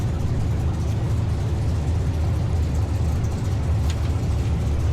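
Dense, steady engine roar from drag racing cars, including a 1956 Chevy, at a strip. The drone is loud and unbroken, with heavy low rumble, and no voices break through.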